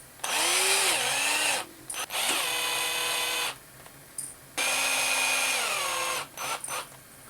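Hook hangers are driven into a wooden bass lure with a power drill, two long loud whirring bursts with pitch dips as the motor loads, separated by short pauses and brief blips.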